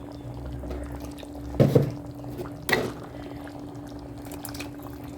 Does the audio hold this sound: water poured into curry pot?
yes